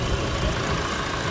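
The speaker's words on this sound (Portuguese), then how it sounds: "Esse barulho de correia aqui" A running 2014 Toyota Hilux engine hums steadily up close with a faint whirring, slightly rattly drive belt noise mixed into the idle.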